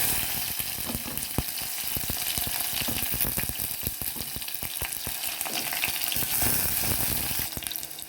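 Chopped onions fry in hot oil for a Kerala-style sardine curry with red chili, giving a continuous loud sizzle close up, broken by scattered clicks and scrapes of stirring in the pan.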